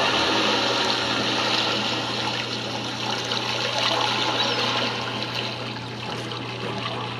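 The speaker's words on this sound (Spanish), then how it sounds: "con sonidos de pájaros y de lo que sería el mar" Continuous watery wash with a low steady hum underneath, a recorded sea ambience loop playing at constant level in a natural history museum, with no talking.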